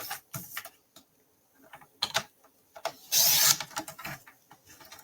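Paper is trimmed for a scrapbook layout with a series of close, crisp cuts and rasping slides, irregular and fairly quiet, with one longer, louder swipe near the middle and light handling clicks between.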